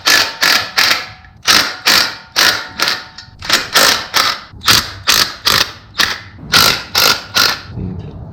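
A ratchet wrench works loose the bolts of a clutch pressure plate on a 1.6 engine, making loud, close, rhythmic bursts of rapid clicking in quick strokes with brief pauses between groups.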